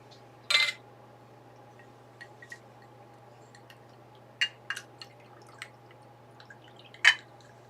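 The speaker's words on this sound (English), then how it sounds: "that I pour water into this jar" Water is poured into a glass jar indoors in a living room, giving a few short, sharp splashing bursts and small drips spread across a quiet background hum.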